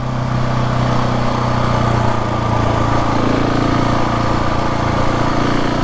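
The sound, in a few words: KTM 690 Enduro R motorcycle being ridden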